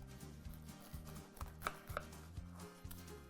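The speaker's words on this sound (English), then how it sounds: "I'm going to cut that in half" A knife pressing through an egg grilled cheese sandwich to cut it in half, a few soft crunching cuts and taps on a board, quiet and close with no talking.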